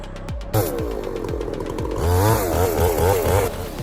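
A Husqvarna chainsaw with a long bar saws through western hemlock, its engine loud and close, revving and bogging in a steady snarling drone with rising and falling pitch throughout.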